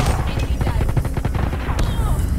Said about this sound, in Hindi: उसके ऊपर कितनी गोलियां डाली थी